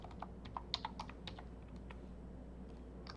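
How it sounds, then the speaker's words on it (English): Someone types a user code on a computer keyboard to log into a library cataloguing application: a short, irregular burst of quiet, close key clicks that fades into faint room tone. "first you need to log in the application by typing your user code"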